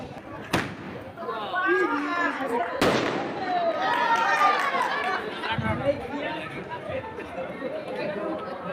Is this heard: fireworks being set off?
yes